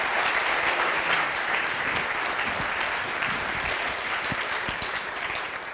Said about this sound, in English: How about a great round of applause for Hubert?